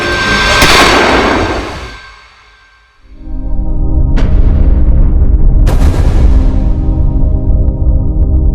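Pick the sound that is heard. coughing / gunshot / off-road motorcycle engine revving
gunshot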